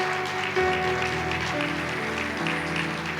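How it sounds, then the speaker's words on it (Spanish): A church congregation applauds in a steady, dense patter of clapping while sustained organ or keyboard chords play underneath. "Denle un fuerte aplauso al Señor."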